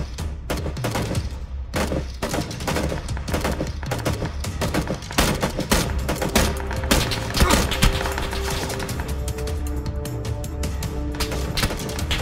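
Gunshots in PUBG Battlegrounds crack out in rapid, dense bursts and scattered single shots, fairly loud and close, running the whole length with little pause.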